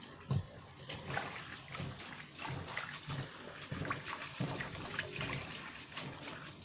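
Rice noodles washed by hand in water, making continuous close sloshing, trickling and light splashing for a Thai chicken noodle soup.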